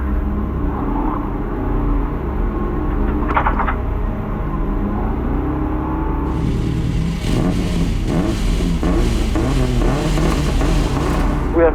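A car engine revs steadily at launch, a loud, sustained mid-pitched drone that rises in intensity partway through, with little talk over it.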